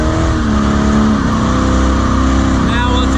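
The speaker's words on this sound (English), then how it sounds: "Let's let her rip, tater chip, and get this burnout started." A Corvette go-kart holds a burnout, its engine revving loud and steady with a harsh, continuous roar and a brief tire squeal near the end.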